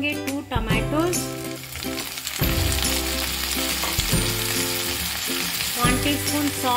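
Onions and curry leaves frying in oil in a pan give a loud, steady sizzle with occasional stirring, while tonal background music plays underneath.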